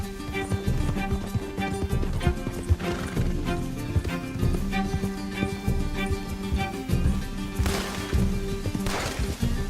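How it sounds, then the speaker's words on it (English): Rapid hoofbeats of a galloping horse in Red Dead Redemption 2 pound steadily over a dense, loud game soundtrack with music, shouts and bursts of noise. "Can't this horse go any faster?"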